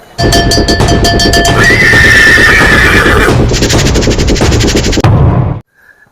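At a horse market in Yeola, a loud, drawn-out horse whinny rises and quavers over a dense rattling background, ending abruptly.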